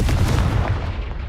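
A Confringo fire spell cast in Hogwarts Legacy, heard as a loud, dense burst with a booming low rumble that stays strong throughout and fades slightly at the end, with no talking.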